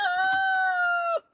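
A rooster crows loud and close, one long sustained cock-a-doodle-doo lasting about a second, just after the rooster and a hen are let out of a crate at home, with faint clucking underneath.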